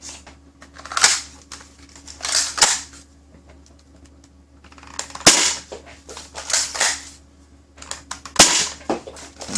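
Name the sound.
modded Adventure Force Brute Pro foam dart blaster firing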